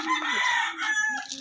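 Gamefowl roosters at feeding time, one crowing loudly and close with clucks around it, a single short burst with no talk.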